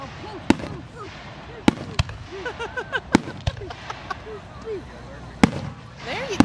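Fourth of July fireworks going off in irregular sharp bangs, several spaced loud reports with softer pops between, while voices chatter nearby.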